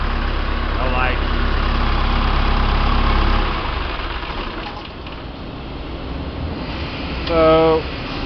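A John Deere 2030 tractor, long left sitting in a pasture, idles low after a cold start, its steady diesel rumble close and loud before easing back to a softer idle, with brief squeaky sounds over it.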